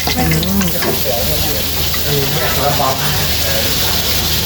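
River fish deep-fries in a hot oil pan in a Thai restaurant kitchen at Chainat, a loud steady sizzle and bubbling close up while people talk over it.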